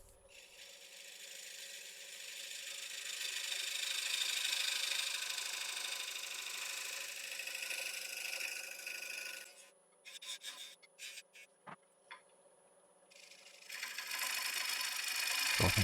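Skew chisel cutting a dovetail on a spinning live edge bowl on a woodturning lathe, a soft continuous scraping rasp that breaks off into scattered ticks and light contacts, then resumes briefly.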